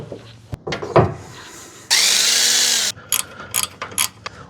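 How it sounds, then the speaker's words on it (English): Ratchet wrench with a 10mm socket backing out vacuum pump bolts on a Jeep JK, a few quick clicking bursts followed by a sustained loud whirring rattle, then more short clicks, close up with no talk. "we'll use a 10mm socket to pull out these 2 bolts"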